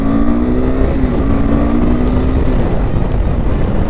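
A KTM RC 390 motorcycle rides at speed, its engine a steady loud drone whose pitch climbs and shifts as it accelerates, with heavy wind rush and no talk.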